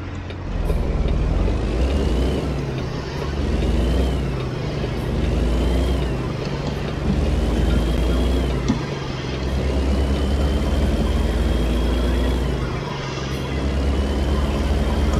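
A Kenworth truck rolls along in the American Truck Simulator game, its engine a loud, continuous low drone that rises and falls through gear changes, with no talking over it.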